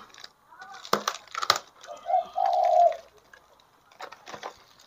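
Soft, rolling coos from a zebra dove, a few bubbling calls in the middle, with faint voices and clattering sounds around them.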